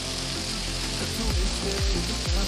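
Spices and Kashmiri chili sizzle in hot oil with a dense, steady frying hiss, broken by a few sharp crackles and pops toward the end.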